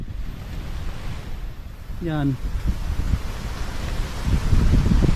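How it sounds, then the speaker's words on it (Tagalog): Strong wind blows in a continuous roaring, buffeting rush that rises and falls and grows louder toward the end, with a short voice heard partway through. "Grabe, lakas ng hangin oh."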